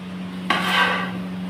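Coconut roasting in a pan in a home kitchen, a single scraping stir with a metallic rasp that rises abruptly and fades over about a second, heard up close over a steady low hum, with no talking.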